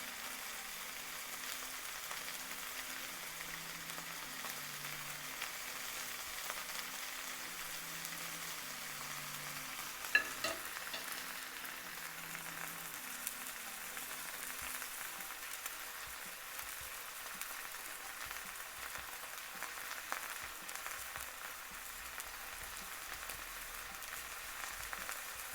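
A pot roast cooks in a pan, giving a soft, steady sizzle with faint intermittent pops and a single sharper click partway through, quiet and continuous over a low background hum.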